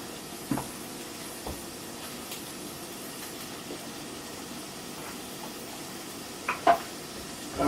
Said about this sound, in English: It's starting to do that sizzle.